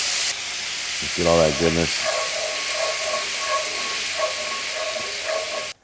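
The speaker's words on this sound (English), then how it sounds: "now we're gonna deglaze the pan. You could use red wine. I'm using a little balsamic vinegar." Balsamic vinegar poured into a hot roasting pan to deglaze it sets off a sharp steaming hiss and sizzle that fades into a softer, steady bubbling, with a person briefly talking over it.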